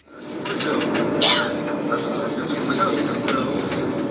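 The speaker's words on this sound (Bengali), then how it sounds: "ট্রেন কটক জংশন ঢুকছে" Low rumble of the Vande Bharat Express from Puri moving slowly into Cuttack Junction with occasional squeals and clanks, while a voice speaks over it.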